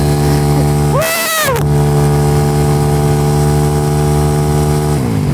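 A Yamaha Mio scooter with a 300cc engine and tinted setup drones loud and close in a steady, buzzing rev. Its pitch sweeps up and back down in one quick burst, then dips again near the end.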